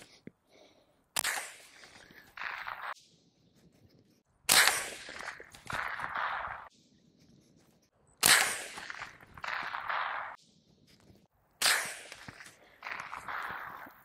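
A suppressed Smith & Wesson M&P 15-22 with an integral Gemtech upper fires supersonic .22 rounds outdoors: four sharp, evenly spaced cracks, each followed by a quick metallic action cycling, with quiet gaps between shots.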